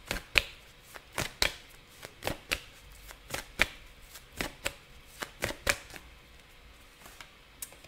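Tarot cards being shuffled in a pile, a brisk series of about eighteen crisp riffling snaps at an uneven pace, close and fairly quiet against a soft background hiss.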